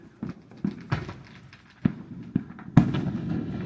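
Fourth of July fireworks bursting outdoors in a string of sharp, irregular pops and booms, some near and loud, others fainter, over a steady rumble of distant crackle.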